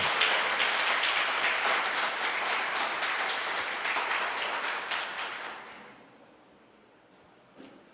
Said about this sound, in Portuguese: Levanta a mão e dá um aplauso, me ajuda.